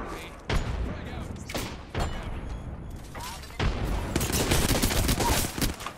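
Gunfire in the battle-royale shooter Apex Legends: bursts of rapid automatic shots and sharp cracks, loud and close, rising into sustained firing toward the end, with game voice lines mixed in.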